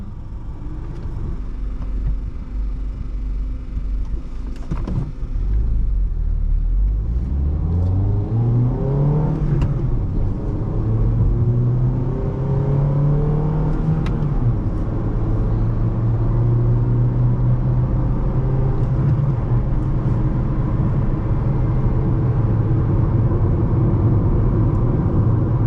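A 2015 Honda Civic LX with a manual gearbox drones loudly at speed, its engine note rising through the revs, dipping at a gear change, then settling into a sustained steady hum with road rumble and no talk.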